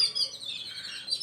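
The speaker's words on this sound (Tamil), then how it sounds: "எங்கள் வீட்டு அருகில் இந்த சிட்டுக்குருவிகளுடைய ரீங்காரம்" Sparrows chirp near a house in a quiet village, giving a few faint, high, scattered tweets with no talk.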